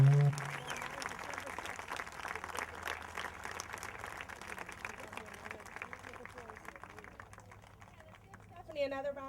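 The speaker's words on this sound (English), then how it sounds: "another round of applause" Audience applause at a charity relay event following a personal speech, a broad wash of clapping that holds for several seconds, thins toward the end, and has a voice breaking in at the close.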